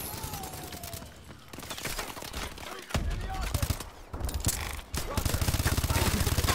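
Rapid automatic gunfire in Call of Duty: Advanced Warfare, dense bursts of shots crackling almost continuously with brief pauses, loud and close, with a player's voice talking over the shooting in places.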